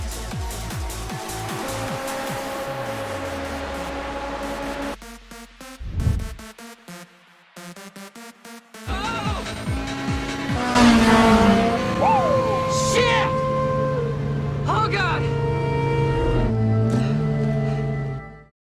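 Super Formula race cars in the iRacing sim scream through upshifts and downshifts, engine whine rising and falling in steps, with a brief lull midway, then a louder, denser stretch of revving and tire squeal.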